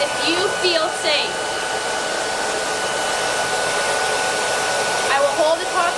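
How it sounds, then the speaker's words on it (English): Hair dryer blowing steadily into a cat cage through an opening in its top, a continuous loud whooshing drone, with a cat's faint cries heard briefly near the start and end. "You can open it and stick the dryer in."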